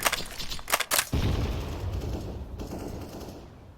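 Video game gunfire, with a cluster of sharp, loud shots near the start followed by a dense, rumbling wash of combat noise that slowly fades.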